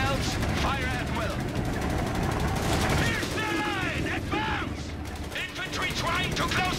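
Dense gunfire and machine-gun bursts rattle without pause through a Company of Heroes 3 battle, with clanking war machinery in the mix and shouted German-accented voice lines layered over the loud, continuous noise of combat.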